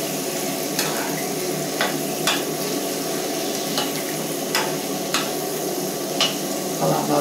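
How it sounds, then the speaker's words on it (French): Meat browning in a pan with thyme, a steady close sizzle and fry with occasional stirring scrapes, no talk. "la viande elle est en train de dorer"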